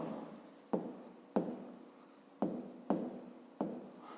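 Pen strokes on paper as someone writes out a 5th-grade geometry problem about an isosceles triangle, six short scratchy bursts at an uneven pace, close and fairly quiet, with no talking.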